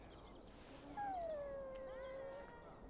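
A dog in Dragon Age Origins lets out a single drawn-out whine that slides downward and trails off, clear and close against a soft background hum.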